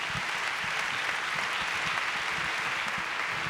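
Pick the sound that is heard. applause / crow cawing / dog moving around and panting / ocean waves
applause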